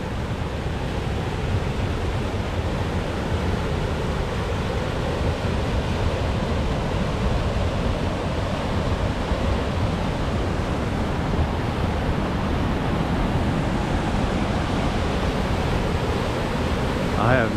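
A waterfall and rushing water along a Washington hiking trail produce a constant broadband roar, steady and unbroken throughout with no distinct events, with some wind over the microphone.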